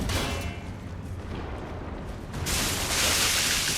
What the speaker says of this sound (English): Remember that explosion is gonna do a shit ton of damage.